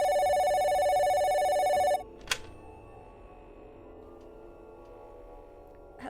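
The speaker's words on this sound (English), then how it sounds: "Don't answer the phone." A telephone ringing in the video game Danger: North, a steady electronic ring for about two seconds that cuts off abruptly, followed by a single sharp click and then quiet room tone.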